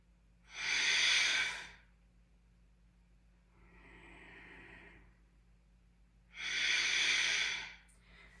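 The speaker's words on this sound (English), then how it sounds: "2 charging breaths" Two forceful breaths during yoga practice, each a loud, close, rushing exhale lasting about a second, separated by a softer, quieter inhale in between.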